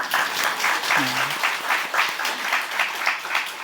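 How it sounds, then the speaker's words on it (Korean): A church congregation at an intergenerational worship service breaks into applause, a rhythmic, pulsing clap that comes in waves, with a short voice sound early on under it. "박수 한번 칠까요?"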